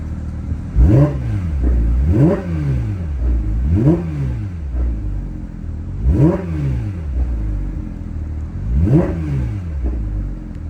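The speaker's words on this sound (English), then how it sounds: "we can give it a few revs just so we can hear it" A 2023 Porsche 911 GT3 RS flat-six engine revs repeatedly, about five sharp blips to around 3,500 RPM that rise and fall in pitch, loud and close with an idle rumble between them.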